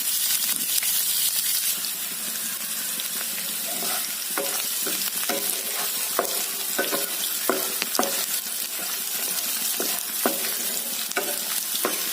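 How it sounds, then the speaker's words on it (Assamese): Onions frying in hot oil in a pan, a loud continuous sizzle with repeated clicks of stirring scattered through the stretch, no voice over it. "তেল গৰম হ'বলৈ দিম। তাৰ পিছত পিঁয়াজখিনি দি দিম।"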